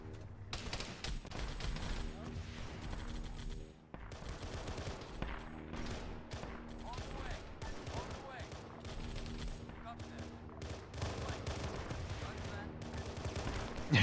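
Sustained gunfire and rocket fire in the military game Arma 3, with a dense run of overlapping shots and bursts at moderate distance, continuing steadily throughout with voices under it.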